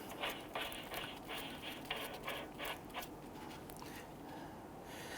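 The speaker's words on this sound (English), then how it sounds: "We're using a 36mm socket to tighten this down." Ratchet wrench with a 36mm socket tightening the self-locking front axle nut on a 2008-2013 Infiniti G37 CV axle, giving a steady run of quick clicking ratchet strokes, close up and alone.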